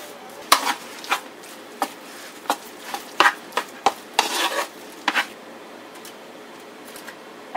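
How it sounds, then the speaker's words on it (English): Seasoning of pink Himalayan salt and dried basil being stirred together in a bowl, heard as irregular clinks and scrapes of a utensil against the dish, fairly close and clear. "Pink Himalayan salt. And then a little bit of dried basil. Let's mix this together."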